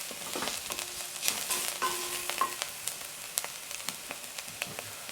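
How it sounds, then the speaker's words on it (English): Garlic powder frying and being stirred in a pan for a plant-based mac and cheese, a soft steady sizzle broken by repeated scraping and clicking strokes of the spoon, quiet and close. "Let's stir this off so they're not catching."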